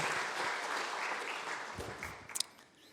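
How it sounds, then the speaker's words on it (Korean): A church congregation applauding during a Sunday morning service, a dense steady wash of many hands clapping that fades slightly toward the end, with a few sharper claps standing out near the close. "감사로 올해 영광의 박수 드리겠습니다."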